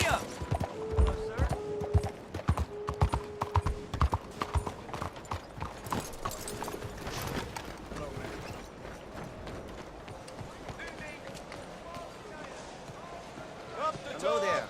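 Horse hooves clip-clop steadily in Red Dead Redemption 2, a brisk repeating rhythm of sharp close thuds over faint game ambience, with voices talking at times and a short tonal cue partway through.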